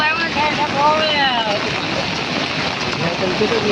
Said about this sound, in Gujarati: આજ રાતથી વરસાદ ચાલુ હતો એટલે પૂર તો આવી ગયું છે પાણી તો આવી ગયું છે